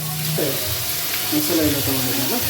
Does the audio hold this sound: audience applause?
no